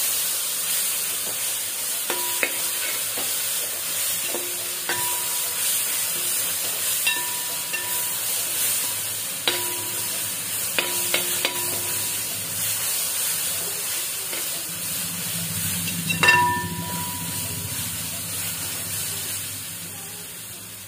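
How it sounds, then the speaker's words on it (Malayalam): Sliced onions frying in a pan with ginger-garlic paste while being stirred for a Kerala mutton dish, a steady soft sizzle and hiss throughout, punctuated by occasional scraping clinks of the spoon and a louder stir burst. "ഇതിലേക്ക് ഇനി കുറച്ച് ഇഞ്ചി വെളുത്തുള്ളി പേസ്റ്റ് കൂടെ ചേർത്ത് കൊടുത്തിട്ട് നന്നായിട്ട് ഇളക്കി കൊടുക്കാം."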